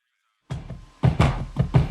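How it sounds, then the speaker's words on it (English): A chopped sample played through a filter, flange and reverb: hits in a choppy, uneven rhythm, muffled and swirling with a reverberant tail, after a half second of silence. "chopped up sample, and I added a filter on top of it, as well as a little bit of flange"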